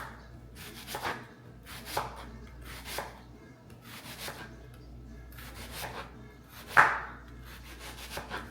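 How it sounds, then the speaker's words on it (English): A knife chops an onion on a cutting board, with several separate close knocks and scraping strokes at roughly one-second intervals, fairly quiet. "I'm gonna go ahead and chop up my onion."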